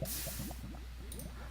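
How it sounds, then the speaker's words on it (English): Water falls and flows in the Minecraft Astocky Pack 2 modpack, a steady rushing wash with soft bubbling, splashing squelches throughout, close and even in loudness with no talk. "So you can see basically the water's going to fall in a straight line and end up just there."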